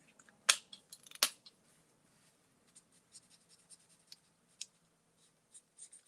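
Bullet-tip marker coloring in a Santa hat on card paper: quiet, scratchy strokes in short bursts with a couple of louder taps, close and alone.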